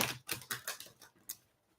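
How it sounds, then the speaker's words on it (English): A deck of tarot cards is shuffled in a series of quick, crisp riffling snaps and flicks, about six close bursts that thin out toward the end, with no talk. "I want to do one more shuffle here."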